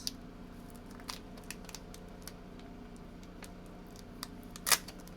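Vinyl lettering is scraped off a mug in faint, sparse clicks and scratches spread over a quiet background, with one sharper, louder scrape near the end.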